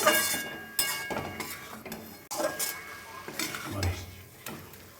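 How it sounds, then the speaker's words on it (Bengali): A spoon scrapes and knocks against a pan while tomatoes and bottle gourd greens cooked down soft are turned over. Several distinct clattering strokes come a second or so apart, close and fairly loud, with a faint sizzle beneath. "আমি একটু নাড়াচাড়া করে দিচ্ছি ওপর নিচ করে দিচ্ছি"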